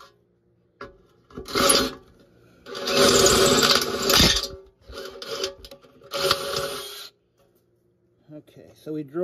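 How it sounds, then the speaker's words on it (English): A drill bores through an easy out extractor during engine work on a 1988 Suzuki-powered Toro lawn mower, with several rough grinding bursts of uneven length separated by short quiet gaps. "we drilled right through the easy out"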